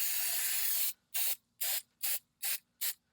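Aerosol spray aimed at a brake hub during a front brake pad and rotor replacement: one long hissing blast, then five short, evenly spaced bursts, close and loud with silence between them.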